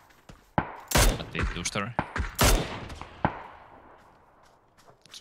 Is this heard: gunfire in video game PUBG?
yes